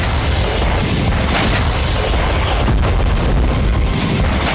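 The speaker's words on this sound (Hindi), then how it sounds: "रूस के हमले से यूक्रेनी टैंक में जबरदस्त विस्फोट हुआ।" A dense, loud roar of blasts and rumbling booms, continuous and chaotic, like a heavy explosion amid gunfire, from an attack on a Ukrainian tank.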